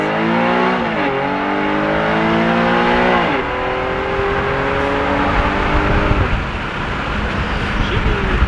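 A tuned Infiniti G37 sedan launches hard, its engine climbing sharply through several rising sweeps split by quick gear changes, loud and close, with road and exhaust roar filling in as the run goes on.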